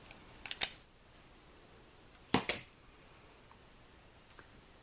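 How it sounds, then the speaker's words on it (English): A small 1/8 inch circle paper punch nipping through paper: a few sharp, crisp clicks in quick pairs, then a lone fainter click, close and quiet with no talk. "Nip out my little 1/8 inch circle"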